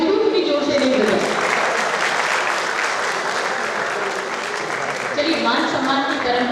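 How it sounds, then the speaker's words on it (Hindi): A hall audience at an honours ceremony claps steadily and loudly throughout, a dense continuous wash of many hands that swells slightly near the end. "हालांकि ताली आपने अभी भी जोर से नहीं बजाई"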